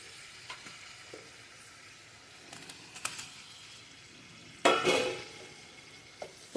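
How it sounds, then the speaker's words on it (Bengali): Fried pointed gourd pieces added one by one into spice paste frying in oil, with faint sizzling, light spoon scrapes and one loud burst of hissing as pieces hit the pan. "এবারে ভেজে রাখা পটলগুলো দিয়ে দেবো একটা করে"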